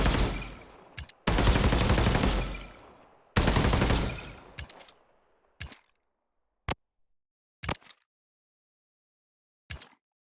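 Sniper rifle gunfire from an M700 in a video game: two long, loud shot blasts with ringing tails, followed by several short sharp clicks and ticks of bolt handling or reloading, with no speech.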